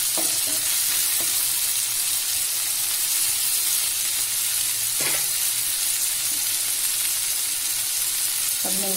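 Onion and tomato fry in oil for a dhaba-style baingan bharta, a steady close crackling sizzle with a few faint clinks and stirring scrapes, no voices.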